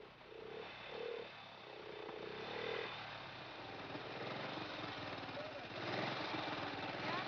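A 1930 AJS motorcycle engine runs steadily at a moderate distance, a low chugging drone that swells slightly near the end. Someone talks over it.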